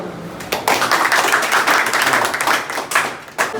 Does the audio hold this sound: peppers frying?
no